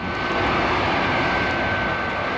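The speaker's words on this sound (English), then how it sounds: "And Wonder Woman's plane soon makes contact with the alien craft" Steady, loud drone of an aircraft engine in flight, a constant roar with a faint high whine running through it, used as a plane sound effect on a children's superhero story record.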